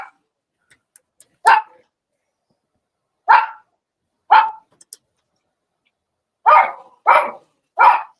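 Dogs barking in short separate bursts, one bark, then two more spaced apart, then three in quick succession near the end, fairly close with quiet gaps between.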